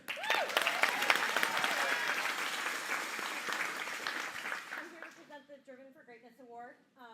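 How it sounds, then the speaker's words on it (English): Event audience at a corporate vision day applauding as a speaker named Meredith is introduced, a dense, sustained round of clapping that fades out, followed by a single voice beginning to speak. "Round of applause for Meredith."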